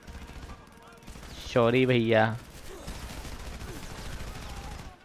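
Rapid gunfire crackles through a Frontlines: Fuel of War firefight, a steady stream of shots under a loud, brief shouted voice and a short spoken line.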